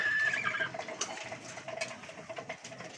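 Racing pigeons in a loft give brief soft cooing calls near the start, then fade into a steady background of fluttering and rustling.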